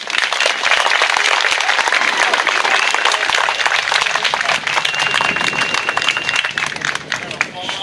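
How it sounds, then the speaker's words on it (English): A crowd at an outdoor Memorial Day event applauds veterans with loud, continuous clapping, a dense, even wash of claps with faint crowd noise underneath. "applause for all our veterans"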